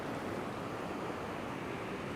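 Ocean surf on a fishing beach, a steady broad wash of breaking waves with a light wind rumble, continuous and even throughout with no voices.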